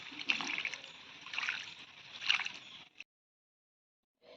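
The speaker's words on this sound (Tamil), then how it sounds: "இப்போ தண்ணி ஊற்றிக்கலாம்." Water poured from a container onto a newly planted rose plant in soil, three soft trickling and splashing bursts close by, then silence with a brief final dribble.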